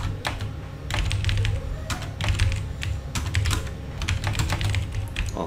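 Rapid clicking of computer keys while a chart title is typed in a word processor, steady bursts of keystrokes over a low background hum, close and moderately loud.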